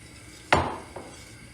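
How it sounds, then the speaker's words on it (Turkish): A utensil strikes a pot of rice pudding while a starch and flour mixture is stirred in, making one sharp metallic clank and then a softer second knock over quiet background. "Şimdi sütlacıma karıştırarak ekliyorum."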